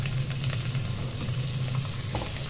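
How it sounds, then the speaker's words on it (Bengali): Bitter gourd frying in hot oil in a wok, a steady crackling sizzle that holds at an even, moderately loud level throughout with no voices. "তেলটা গরম হয়ে গেছে। আগে আমি করলাগুলো ভেজে নেব।"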